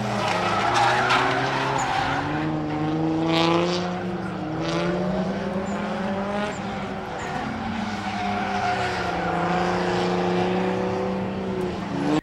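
A drift car slides hard at a drift event, its tires squealing in loud, continuous wavering howls over a roaring engine for the whole stretch.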